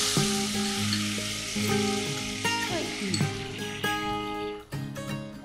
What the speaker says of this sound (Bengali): আমি এবার দিচ্ছি টমেটো কুচি